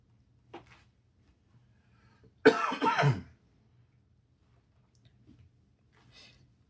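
A single sharp cough rings out in a quiet room, preceded and followed by faint small noises and near silence.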